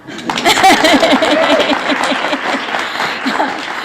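A group of people clapping for recognized state representatives at a gathering, with a burst of applause that swells and then continues evenly, mixed with some murmured voices in the room.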